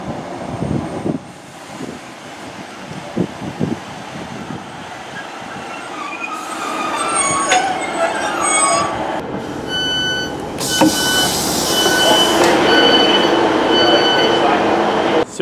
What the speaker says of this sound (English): the train came in and left bang on time to go to Sheffield